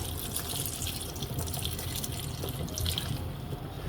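Water pours steadily into a pot of cooked carrots with pea protein and spices, a continuous splashing stream lasting several seconds, close and alone without talk.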